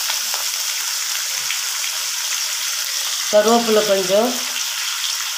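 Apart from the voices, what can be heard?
onions, tomatoes, lentils and karpuravalli leaves sautéing in a pan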